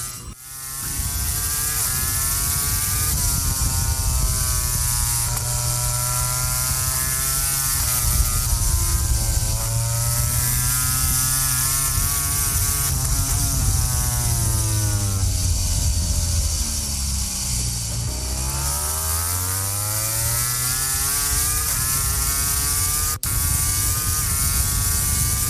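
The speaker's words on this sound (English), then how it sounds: "listening to the Ducati sing as well as they come back through" A 2023 Ducati MotoGP bike ridden by Bagnaia wails through an on-board lap at the Spanish GP, its high-revving engine climbing and dropping through gear changes, loud and close, with no voices.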